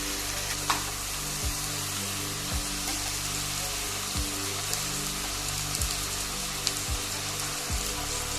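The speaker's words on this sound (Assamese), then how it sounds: "আৰু এইখিনি মই অলপ ভাজা কৰোঁ পিঁয়াজৰ লগত।" Boiled beans frying with onions in a village-style kitchen pan, a steady crackling sizzle throughout with soft stirring scrapes at regular intervals, close and moderately loud with no talk.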